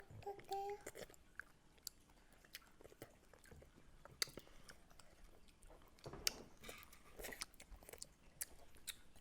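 Someone chews food close to the mic, with soft wet mastication broken by sharp crunchy bites and occasional pops at an irregular pace.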